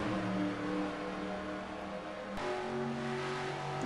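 Race car engines on the final lap of a NASCAR Racing 2003 oval race, a dense, loud pack drone with steady high revs and a brief shift in pitch midway.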